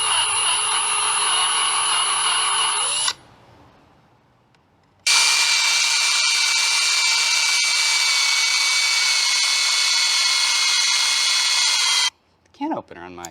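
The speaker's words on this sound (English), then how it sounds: "This is gonna be the longest part of the whole process probably, is just drilling out and deburring these." A power drill drills out and deburrs parts in a workshop, whining loudly and close in two long high-pitched runs separated by a short pause, then stopping abruptly near the end.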